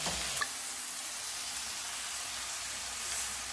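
Tomatoes frying for chicken curry while being stirred: a steady soft sizzle with a light scrape near the start, fairly quiet and continuous, no talking.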